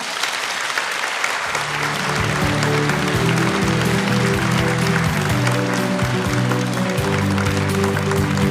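An audience at a Korean church worship service applauds steadily and loudly to welcome the pastor, and music joins in after a moment and plays beneath the clapping.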